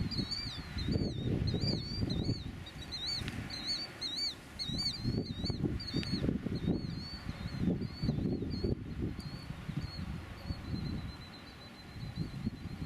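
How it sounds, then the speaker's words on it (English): Repeated warbling bird calls ring out over a low, rumbling outdoor background, clustered early and thinning out later, with no talking. "listen to the birds."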